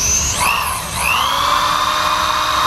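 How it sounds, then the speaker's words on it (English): A power drill fitted with a wire brush scours 16 years of rust and road grime off a Honda S2000 car part, giving a loud, steady high-pitched whine that dips briefly in pitch near the start and then holds. "take the wire brush to it. Try and take 16 years worth of road grime and rust and stuff off of it"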